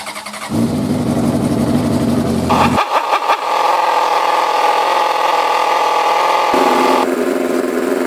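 A Honda CBR600RR sport bike, rebuilt after being crashed and drowned, cranks with a starter whir, catches, then settles into a loud, close idle with a few rev changes and a steady running note.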